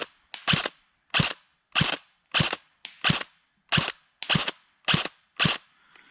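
An Elite Force MP5 airsoft gun fires single shots at targets at about 50 feet, ten sharp close pops in a steady, evenly spaced rhythm with quiet gaps between them and no talking.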